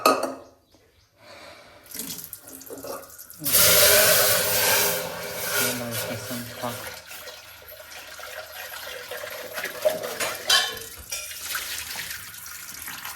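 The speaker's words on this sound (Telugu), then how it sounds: "మేము కొంచెం నీళ్ళు వేసిస్తాం" Water poured into a pot for mutton chaps on a lit home stove, a loud rushing splash that starts abruptly and settles into a steady trickle, with quieter kitchen clatter around it.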